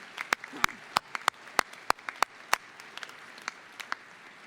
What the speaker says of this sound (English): Another round of applause for the class of 2019.